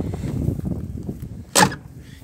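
A single sharp metallic slam as the hood of a 2018 Erkunt Servet 85 tractor with a Perkins engine is shut, brief and fairly close over a quiet low background.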